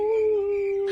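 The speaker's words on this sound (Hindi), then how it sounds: "कुत्ते भौंक रहे थे" A dog howling sound effect: one sustained, steady, mournful tone held for about a second, loud and close, with no other sounds around it.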